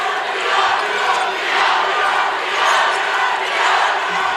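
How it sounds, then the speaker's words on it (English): A loud high school boys basketball crowd at a Class 2A quarterfinal, Benton vs Teutopolis, chants 'defense' in rhythmic, swelling waves that repeat steadily throughout, with crowd noise filling the gym. "Defense chance ringing out from the Wooden Shoes crowd."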